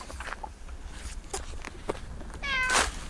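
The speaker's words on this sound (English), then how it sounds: "A very friendly cat to meet." A friendly cat meows once near the end, a short clear cry over faint footsteps and outdoor background noise in the English countryside.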